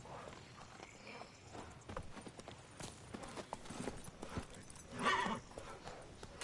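Roach the horse walks in The Witcher III, steady hoof clip-clops repeating at a moderate pace, fairly close, with a brief louder snort or whinny-like burst near the end.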